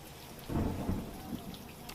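Heavy monsoon rain in Dolvan, Tapi, with a low rumble of thunder swelling in the middle over a faint, steady hiss of rainfall, fairly quiet and distant, no voices.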